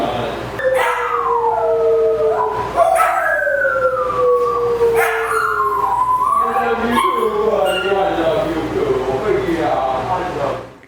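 A dog howls along in long, wavering, siren-like glides that rise and fall over about eleven seconds, loud and close, with other voices joining the howl.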